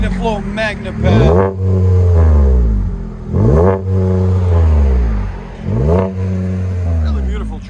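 A 2022 Chevy Colorado 3.6L V6 with a Magnaflow Magnapack exhaust, revved three times in strong, rising-and-falling bursts over a steady deep idle, close and loud.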